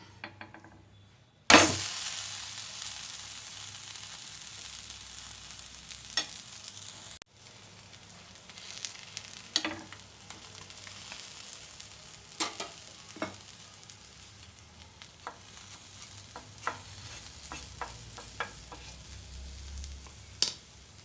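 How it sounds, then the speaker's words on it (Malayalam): Breakfast frying in a pan, a faint steady sizzle punctuated by scattered scrapes and knocks as it is turned and flipped, with one sharp clatter near the start, no voices. "തിരിച്ചും മറിച്ചുമൊക്കെ ഇട്ട് നല്ലതുപോലെ ചുട്ടെടുത്തിട്ടുണ്ട്, പൊരിഞ്ഞിട്ടുണ്ട്"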